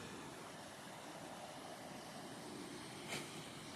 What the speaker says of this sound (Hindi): फिर जहाँ पे तेज धारा बह रही है वहाँ पे मैं आ रहा हूँ